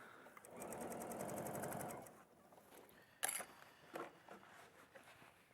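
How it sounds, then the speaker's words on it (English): A sewing machine with a walking foot runs a seam through thin fabric at a steady, fast, close hum for about two seconds. It stops, and a few quieter clicks and handling sounds follow. "So now I'm sewing at 1 centimetre."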